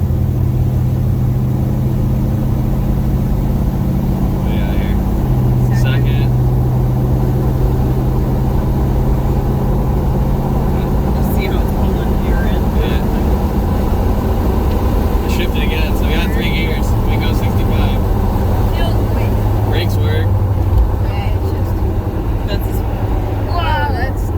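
Engine of a 1979 Ford Ranger pickup driving down the road, a steady loud low drone with shifting pitch as it pulls through the gears, with occasional clicks and rattles over the top.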